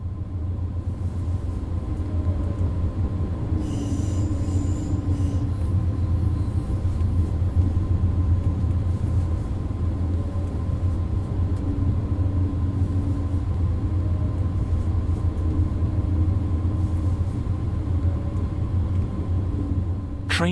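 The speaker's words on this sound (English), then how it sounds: "This particular train is a third-generation intercity express built by Siemens in Germany for international operations." A third-generation Siemens intercity express, eight cars built for international service, runs in the game Train Sim World with a steady low rumble and rolling wheel noise that stays constant and fairly loud throughout, without speech.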